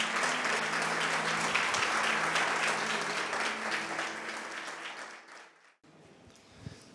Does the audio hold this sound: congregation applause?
yes